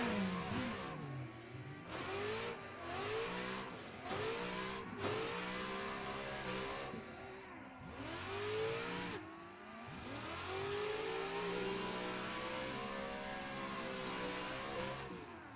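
Race car engine in Assetto Corsa, revving hard through rising and falling pitch sweeps as it accelerates and shifts, loud and close throughout with no talk.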